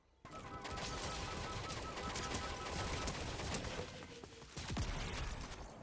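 West Star 34 blaster pistols fire in close-quarters Fortnite combat, a dense, continuous barrage of rapid shots and effects lasting several seconds with little pause.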